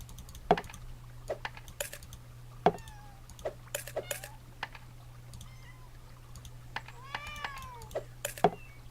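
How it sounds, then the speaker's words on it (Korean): Several short cat meows from a mobile game scattered over steady keyboard clicks and a low constant hum, with one longer wavering cry near the end. "고양이 울음소리가 되게 밖에서 나는 것 같아요"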